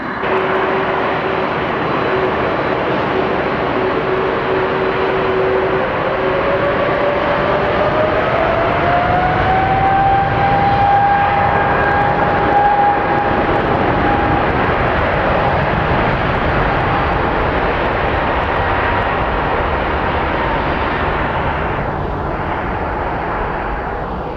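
Loud, steady jet engine roar with a whine that climbs in pitch and holds, a big airliner spooling up nearby while taxiing at Atlanta Hartsfield airport.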